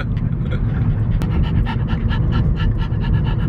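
Several dogs pant rapidly and steadily at close range inside a car, a continuous breathy rhythm with a faint low rumble of the vehicle beneath.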